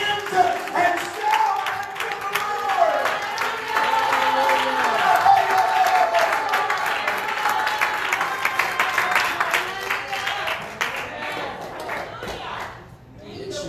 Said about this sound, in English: would you clap your hands and shout to the